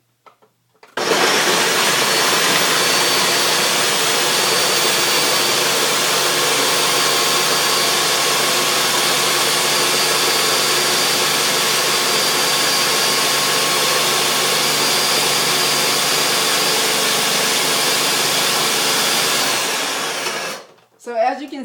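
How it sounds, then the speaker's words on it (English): A food processor whirs loudly and steadily for about twenty seconds, blending raw vegan carrot cake ingredients, then cuts off abruptly. "So you want to put that in the food processor, and you want to blend anywhere from 1 to 2 minutes"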